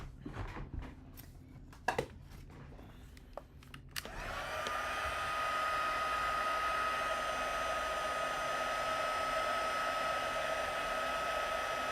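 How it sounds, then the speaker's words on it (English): Heat tool blowing hot air steadily for heat embossing powder on a Hershey's nugget box, a loud continuous whoosh with a high whine starting after several seconds of faint handling taps and rustles. "So I'm just using my heat tool to heat emboss this."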